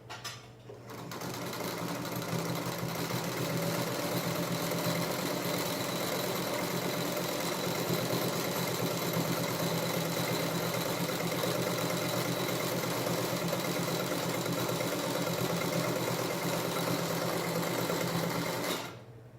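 A Pfaff 130-115 double needle sewing machine stitches at a steady pace, its motor humming and whirring continuously for most of the run before stopping, close and even, with no talking.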